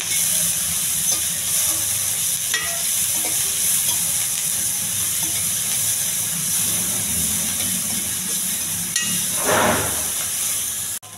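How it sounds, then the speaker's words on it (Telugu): Onions with curry leaves and a little salt sizzle steadily in a hot pan, a constant frying hiss with occasional stirring scrapes and no voices. "కొంచెం దోరగా వేయించాలి."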